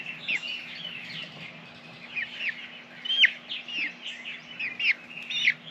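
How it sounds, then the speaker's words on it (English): Young American Breese rooster chick chirping repeatedly in a quick, irregular series of high peeping calls, close by, with a steady low electrical hum underneath and no talking. "Another little rooster."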